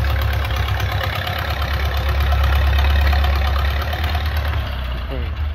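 An Allis Chalmers 6-12 tractor engine idles steadily after a clutch adjustment, with a low, rumbling chug that holds at an even level throughout and has no voices over it.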